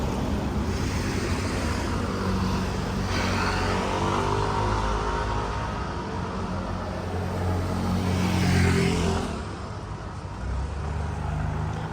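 A van on a narrow road passes close by, its engine rumble and tire noise building to a loud swell and then fading away, heard over steady background engine hum.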